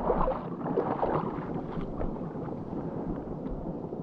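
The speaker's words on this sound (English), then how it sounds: "That's all the water moving." Creek water moving and rippling at Jackey Jackey Creek in Cape York, a steady broadband rushing wash that holds close and fairly even throughout, with no talk over it.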